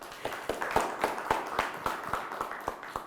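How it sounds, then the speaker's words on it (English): Audience clapping at a small live music show: sharp, fairly quick handclaps, moderately close and not very loud. "Clap it up."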